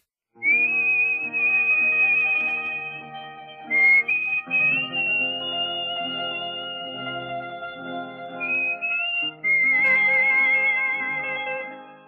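A person whistles a clear, high melody to open a song, the phrases sustained and gliding over a steady band accompaniment of layered chords, loud and close throughout.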